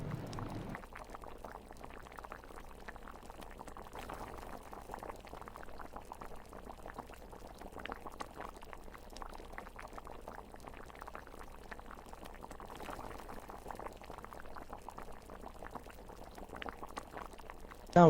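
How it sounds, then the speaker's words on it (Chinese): Water filling a pot for stewing pig trotters, a soft, continuous bubbling and trickling pour that runs steadily and fairly quietly, ending in a brief sharper knock. "那我们往锅里面加入清水，准备去炖煮那个猪脚。"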